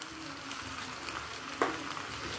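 Ginger garlic paste frying in a pan while chicken manchurian is cooked, giving a faint, steady sizzle with one brief clink of a utensil partway through.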